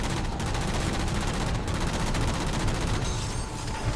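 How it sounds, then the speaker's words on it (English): Sustained rapid automatic gunfire from an enemy in Halo 4, a dense, loud stream of fast shots with a few brief gaps, continuing steadily throughout. "he's just firing away at me"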